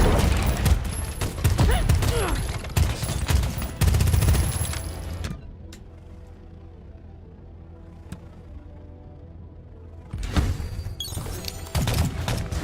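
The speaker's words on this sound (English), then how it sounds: "Love them grenades." Rapid gunfire and grenade blasts in the video game Pax Autocratica, loud dense bursts at the start and again at the end, with a quieter lull in between.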